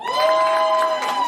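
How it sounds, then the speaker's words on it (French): A brief burst of crowd cheering with whoops and shouted voices, loud and continuous, used as an applause sound effect for a podcast. "Mais maintenant, je mets des applaudissements."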